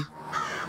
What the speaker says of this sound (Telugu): ఈ కాకులు అరుపులు వినిపిస్తున్నాయేమిటి?